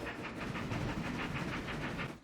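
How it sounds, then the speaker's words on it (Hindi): A cartoon diesel train rolls along the rails with a steady rhythmic clickety-clack and a low engine rumble, loud and close, with no talking. "सामने एक रेल है, इसलिए थोड़ा धीरे चलो"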